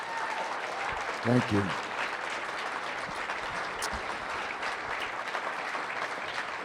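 An audience at a Friday Forum claps steadily for the founder of Dave's Killer Bread, a broad wash of applause with a brief spoken thanks near the start.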